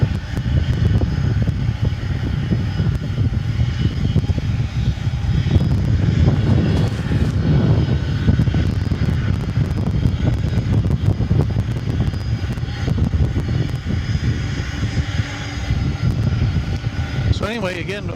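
A plane at DFW Airport roars loudly and steadily the whole time, a broad engine rumble with wind buffeting the microphone and voices talking underneath.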